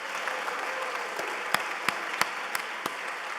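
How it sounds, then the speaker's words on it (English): Steady audience applause fills a conference hall, a dense continuous patter of many hands with a few sharper claps standing out, moderately distant and without speech. "definitely deserves a round of applause"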